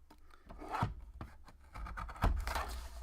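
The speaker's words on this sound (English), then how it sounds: "Just sticking this in my guillotine trimmer because it's the easiest way to do this." A guillotine paper trimmer scrapes through paper in two soft, close strokes separated by a brief pause.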